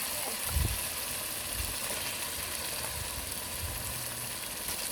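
Meat tipped into spice masala frying on a clay stove gives a steady close sizzle and hiss, with a soft low thump near the start.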